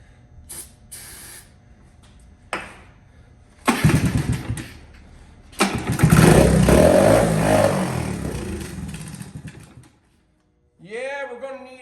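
A 1982 Honda ATC110 three-wheeler engine sputters through several start attempts, catches after starting fluid, then revs loudly for a few seconds before dying, with people talking nearby.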